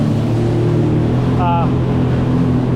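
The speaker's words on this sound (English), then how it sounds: "the ski's running okay" A Sea-Doo jet ski engine runs steadily at a river regatta, a loud, constant droning rumble that fills the whole stretch, with a brief faint voice rising over it midway.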